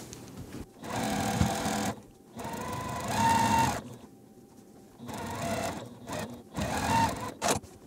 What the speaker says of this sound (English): And then I'll just take this to my machine,